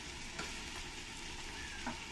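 Green chili and ginger paste sauté in a pan for vegetable pulao, a dense, even sizzle with stirring scrapes, close and continuous.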